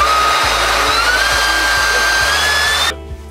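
A band saw motor upgraded with a VFD hums steadily at close range, with a rising whine and a regular low rhythmic thump throughout before cutting off abruptly near the end.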